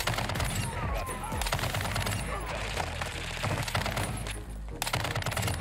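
Gunfire in an online shooter video game comes in rapid, dense automatic bursts with sharp cracks, loud and close, with brief gaps between volleys.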